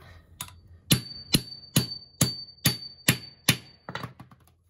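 A hammer drives a punch through a snare drum part in about ten sharp, ringing metallic strikes at a steady rhythm, close and clear, with the last few blows lighter and quicker.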